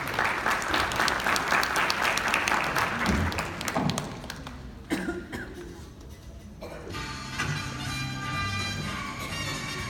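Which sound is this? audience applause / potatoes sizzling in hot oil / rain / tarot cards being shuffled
audience applause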